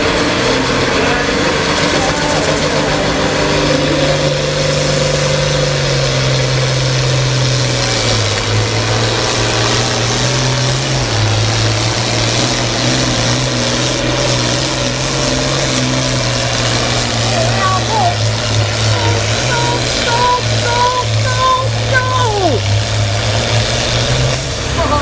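A tractor engine roars at a Great Plains tractor pull in the 8700 class, a loud, steady, droning note that shifts pitch slightly as it holds for the whole stretch, with faint voices now and then.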